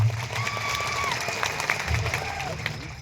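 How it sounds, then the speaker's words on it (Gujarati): A crowd at a political rally in Kawant taluka applauds steadily, with clapping and cheering sustained throughout, a few shrill whistles rising above. "બધા જ માટે એકવાર આપણે જોરદાર તાળીઓ પાડી લઈશું"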